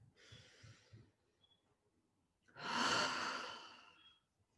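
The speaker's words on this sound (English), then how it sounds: "Okay, deep breath. Another deep breath." Two deep breaths taken during a calming tapping session, a slow inhale followed by a longer, louder exhale after a pause, close and intimate with no talking.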